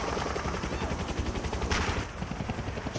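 Rifle and automatic gunfire in the 2012 video game Max Payne 3, loud rapid bursts of shots over a dense, busy action soundscape with a brief flare of noise midway.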